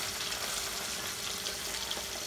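Fish pieces fry in hot oil for a fish korma, a dense continuous sizzle and crackle, close and steady throughout.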